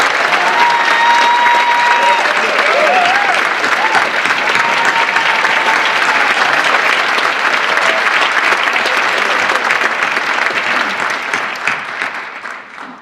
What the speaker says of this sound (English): let's give a big round of applause to Sarah